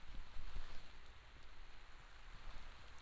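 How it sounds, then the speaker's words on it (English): Steady rain falls outdoors on a person wearing a Wantdo men's waterproof raincoat, a dense, constant hiss of drops pattering on the jacket and surroundings, close and even throughout with no talking. "So we'll stand in the rain for another minute"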